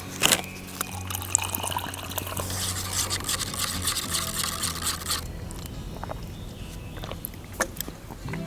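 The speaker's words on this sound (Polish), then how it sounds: "zalewamy go wodą" Water is poured into an isotonic drink powder from a Polish military ration, a close splashing, trickling stream that runs for several seconds, then gives way to scattered small clinks and drips.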